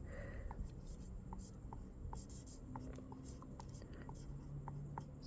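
A marker or pen writes a label onto a jar lid holding mookaite tumbling stones, producing faint, steady scratchy strokes close by against a quiet background hiss.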